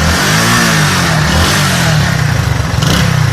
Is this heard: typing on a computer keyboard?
no